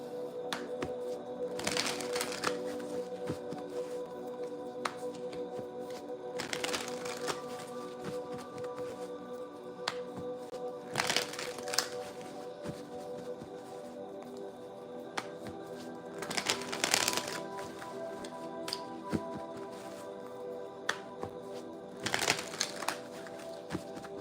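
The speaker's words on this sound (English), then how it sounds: "I don't know why I feel the need to shuffle like this" Tarot cards being shuffled in repeated bursts roughly every five seconds, close-up riffling and flicking over a steady low background hum, with no speech.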